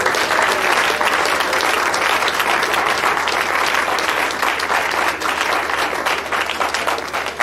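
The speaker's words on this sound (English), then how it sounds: "Can you continue to clap for the Vice-Chancellor of this great university?" Loud, sustained applause from a large audience at a university engineering graduate induction ceremony in Nigeria, steady and dense throughout with no pauses.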